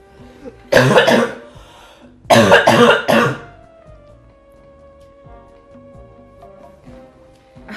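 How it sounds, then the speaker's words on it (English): A person recovering from an illness coughs, two loud, close bursts a second or so apart, with the second a rapid cluster of several coughs, then quiet. "Sorry, I need to cough."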